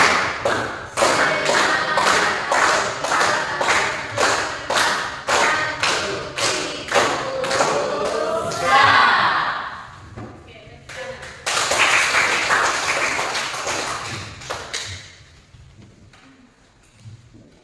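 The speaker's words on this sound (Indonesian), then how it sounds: "Tepuk semangat." A school class performs the rhythmic 'tepuk semangat' clapping cheer: a steady run of loud, crisp group claps in a repeating pattern, a short pause, then another burst of clapping that fades out, with children's voices mixed in.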